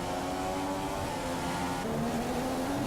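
Formula 1 car engines in the F1 2015 racing game at Abu Dhabi, a continuous high-pitched whine held at full throttle, loud and steady throughout.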